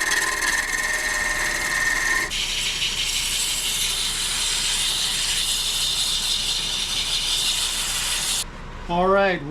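A turned two-wood dish sanded on a spinning lathe, a loud continuous abrasive rush that shifts in tone partway through, then cuts off as the machine winds down.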